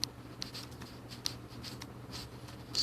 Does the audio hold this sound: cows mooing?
no